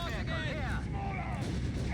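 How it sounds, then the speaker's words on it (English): Heavy machine gun and mortar fire in the World War II strategy game Company of Heroes 3, a continuous dense barrage of bursts and booms with a commentator talking over it throughout. "the assault is very much just heavy fire from both machine gun and mortar"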